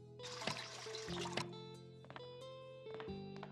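In the video game Bakery Simulator a cup is filled with water, a burst of gushing pour followed by quieter trickling and tonal game sounds, all fairly faint.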